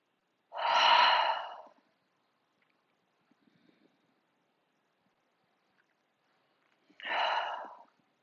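Slow yoga breathing, a long audible exhale sighed out after a nasal inhale, heard twice with a quiet pause between, close and soft in an otherwise silent room.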